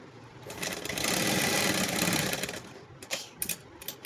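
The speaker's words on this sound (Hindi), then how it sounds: "अब सिलाई लगाते हैं" One sustained run of a sewing machine stitching a trouser zip, close and even for about two seconds, then it stops and a few sharp clicks and handling taps follow.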